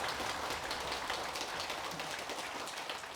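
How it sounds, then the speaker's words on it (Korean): Audience applause in a Korean radio studio during a broadcast charity campaign, a steady, moderately loud patter of clapping hands with no voices over it. "여러분 박수 한번 부탁드리겠습니다."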